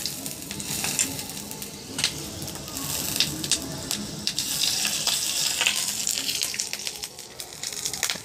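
Bengali five-spice panch phoron with a bay leaf sizzles steadily in hot oil while cooking egg bhuna, a bright continuous frying hiss with small crackles and pops close up.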